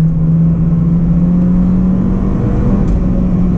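Engine of an Acura RSX heard from inside the cabin on a backroad drive, a loud, steady drone with a strong tonal hum, holding near-constant pitch rather than climbing sharply, no talk over it.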